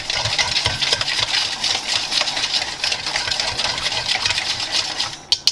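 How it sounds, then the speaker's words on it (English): Whisk beating granulated sweetener into a bean salad dressing in a bowl, making a rapid, steady rattling and clicking that continues close and loud before a couple of sharp knocks at the end. "I like to just whisk this until that dissolves in there"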